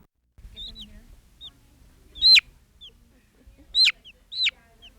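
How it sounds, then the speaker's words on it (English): Backyard chickens in an urban farming setting give short clucks and a couple of louder, sharper calls, scattered irregularly over a faint low background hum. "Backyard chickens are becoming increasingly popular."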